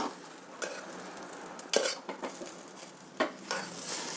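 Cooked moong dal added to fried semolina in a pan for pongal, heard as scattered scrapes and metal clinks of a spoon against the pan over a faint sizzle, with a few sharper knocks.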